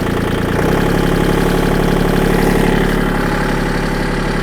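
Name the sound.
Kubota L2501 tractor engine backing up to implement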